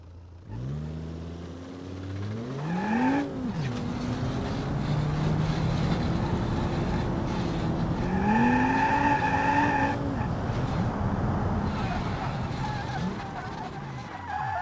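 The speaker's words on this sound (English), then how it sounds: "Let's see how the petrol engine does." Audi Q7 with a 3.0L turbo petrol engine pulling a heavy trailer load in BeamNG.drive, a steady simulated engine drone that rises and falls in pitch with revs, continuous and alone without talk.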